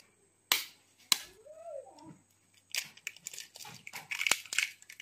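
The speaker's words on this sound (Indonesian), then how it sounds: "pecahkan telur." Chicken eggs are cracked for frying with sabung leaves. Two sharp, close cracks come a half second apart, followed by a brief squeak and then a burst of scattered crackling and tapping.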